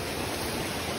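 Water from a spring welling up beneath a rock, a steady broadband rush and trickle that stays even and continuous at close range, with no voices.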